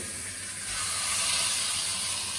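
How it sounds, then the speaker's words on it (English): Steady, loud hissing sizzle of veal frying in a hot pan, a bright crackling wash that swells slightly after the first moment and holds. "That's what you want to be hearing. Nice sizzling."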